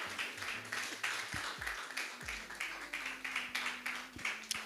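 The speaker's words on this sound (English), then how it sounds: "Please keep clapping until you get here." Audience applause at a World Product Day 2025 panel event, steady dense clapping from a crowd throughout, with a low voice or hum underneath.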